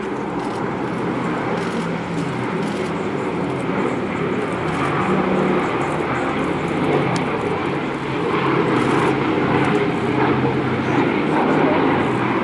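The B-17 Flying Fortress Sally B and a Bristol Blenheim, both propeller aircraft, drone steadily overhead at the Bournemouth Air Festival. The engine roar is broad and continuous under a commentator's voice on the public address.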